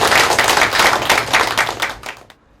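Applause from an audience at a talk concert: dense, steady clapping filling the room before trailing off into quiet near the end.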